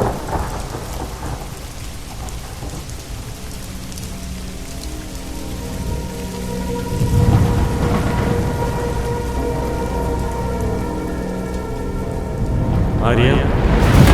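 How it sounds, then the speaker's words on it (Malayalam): Heavy rain pours down in a steady, loud roar, with rumbling thunder swelling in the middle and again near the end. "നല്ല മഴയാണല്ലേ"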